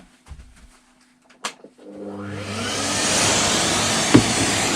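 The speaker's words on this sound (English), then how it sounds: "So I just need to turn the vacuum on." A vacuum cleaner used to clear dust from an electric motor stator during a rewire starts up after a few faint clicks, its motor rising over a second into a loud, steady roar that continues to the end.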